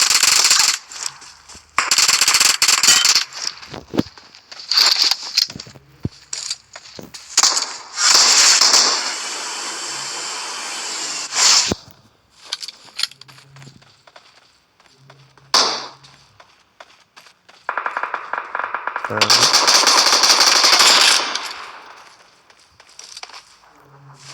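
Bursts of automatic gunfire in a video game, loud and dense, with several long stretches of rapid fire separated by quieter gaps and brief scattered shots.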